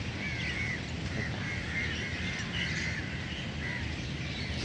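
A flock of birds chirps and twitters at dusk, with faint, overlapping calls in the distance over a steady outdoor hiss.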